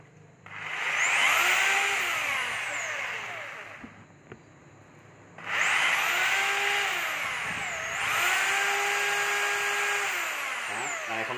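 A two-function 100V electric hammer drill with variable speed runs in long bursts, its whining motor sweeping up and down in pitch as the speed changes, with a brief pause between bursts and a faint knock.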